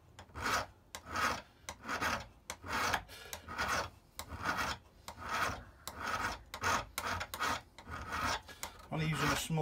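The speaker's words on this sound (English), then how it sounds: "I'm using a fairly abrasive file here just to get it smoothed off" Small hand file rasping metal smooth for cold bluing, a steady series of about twenty rough back-and-forth strokes, close and fairly loud, with no talking.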